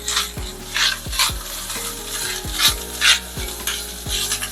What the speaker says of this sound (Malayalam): ഒരു 2 പച്ചമുളക്, 2 ടേബിൾ സ്പൂണ് തേങ്ങ. ഇതെല്ലാം നന്നായിട്ട് വറക്കണം.